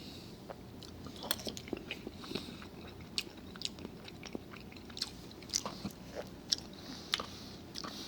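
Close, faint chewing and biting of a seafood dish of shrimp and grits, soft crunches and wet squishes in an uneven rhythm, no talking.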